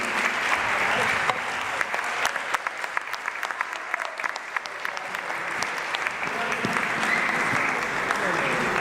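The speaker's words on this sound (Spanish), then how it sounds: "les pido un aplauso para los panelistas" Theater audience at Teatro Marín applauds the panelists after a talk on technology and work, a sustained, dense clapping crowd heard at moderate distance with scattered sharper claps and faint voices mixed in.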